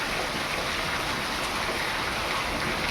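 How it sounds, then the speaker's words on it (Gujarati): Heavy, steady downpour drumming on a village house roof and rushing off it in a dense continuous hiss, close and unbroken, with no voices. "લગભગ કલાકથી ઉપર થઈ ગયો, ચાલુ હોય વરસાદ. હજી બંધ થવાનું નામ નથી લેતો."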